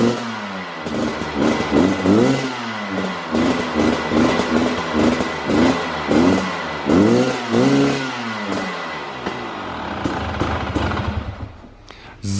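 A Husqvarna TE 300i motorcycle engine with its original exhaust revs repeatedly up close, loud rising and falling blips over a rough idle, ending with a settle.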